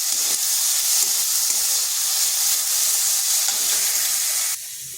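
Carrots, onions and green chillies fry lightly in a pan, giving off a steady, close sizzle and hiss that runs continuously, with a slight drop in level near the end.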